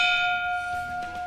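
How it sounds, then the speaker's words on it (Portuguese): A light gong struck once on a sports debate show, its bright tone ringing out and slowly decaying over a quiet studio background. "Um gongo. É, um gonguinho de leve."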